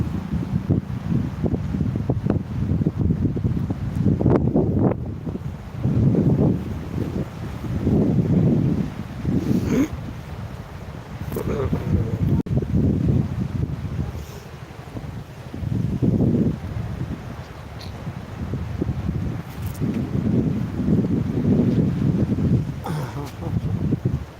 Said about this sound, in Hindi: पानी का लहर देख रहे हैं ना आप लोग